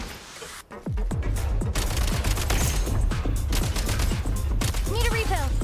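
Rapid bursts of gunfire in the video game Genshin Impact as a player shoots at a box, a dense fusillade of sharp shots after a brief quiet start, with faint game effects underneath.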